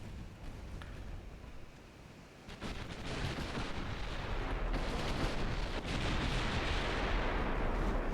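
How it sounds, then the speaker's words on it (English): Warship artillery in a naval video game: dense, continuous rumbling gunfire and booming salvos that swell louder after a few seconds and hold steady, close and heavy, with no talking. "That is a lot of gunfire."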